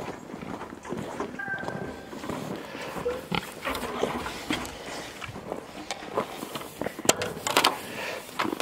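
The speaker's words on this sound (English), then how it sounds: "The pigs are waiting for us." Pigs on a farm waiting at feeding time, grunting and shuffling nearby in uneven bursts with scattered knocks and footsteps, no clear talk.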